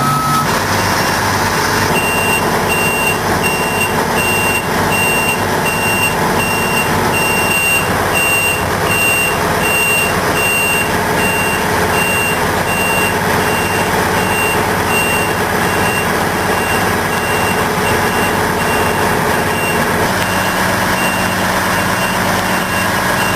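A heavy equipment truck rumbles as it inches up trailer ramps, its engine droning steadily under continuous regular reversing beeps, loud and near throughout, with no voices.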